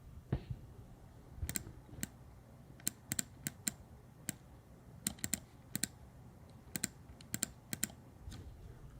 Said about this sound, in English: I want you guys to hear this clicking sound because it sounds really nice